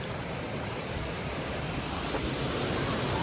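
A waterfall roars as a dense, constant rush of water, loud and close, with no break.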